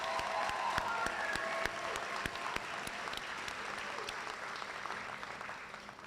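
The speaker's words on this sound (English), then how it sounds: "Can we get a round of applause for that?" An audience applauds at a police department swearing-in ceremony, with a sustained burst of clapping that slowly tapers off, with a few sharp louder claps standing out near the start.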